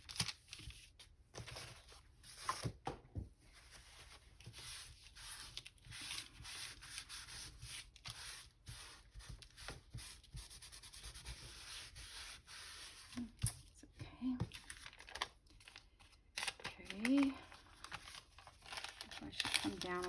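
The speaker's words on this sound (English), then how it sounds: "I have to cut this with the die with my Big Shot" A Big Shot die-cutting machine cranks through a thick stack of layered craft material, giving a continuous rough grinding and rubbing texture with crinkly bursts, close and quiet, while a voice talks over it.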